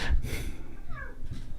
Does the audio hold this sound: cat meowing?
yes